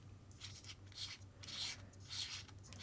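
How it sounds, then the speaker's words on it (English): A small removable lens cover twists onto an Insta360 Go Ultra pod camera, giving close, soft scraping rubs in three or four short bursts with faint hum beneath. "this screws on and off, so it's not something that's just gonna sort of get caught once and come loose."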